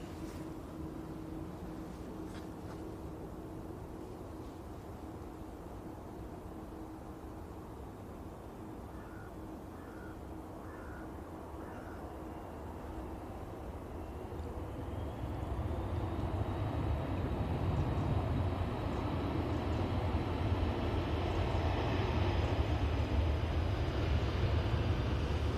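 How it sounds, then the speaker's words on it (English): An Aer Lingus Airbus A330 arriving from New York JFK at Manchester Airport, a distant low jet roar that swells noticeably louder and brighter over the second half, steady and continuous with no talk. "your next Aer Lingus is arriving. Cool. This is A330 from New York JFK"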